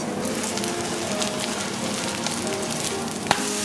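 Kimchi pancake (kimchi jeon) sizzles steadily in a hot oiled pan, a dense continuous crackle with one sharp clack near the end as it is flipped.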